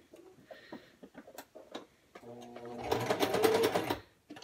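Sewing machine stitching a double-ended dart in fabric, preceded by a few scattered clicks and handling noises, then a short close burst of rapid motor-driven stitching.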